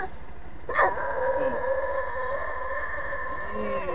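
A dog howls in long, sustained, wavering tones that rise and fall like singing, with a brief sharper yelp near the start, carrying on steadily and fairly close with no talking over it.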